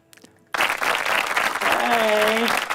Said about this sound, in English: Give a round of applause for Nikki Martin.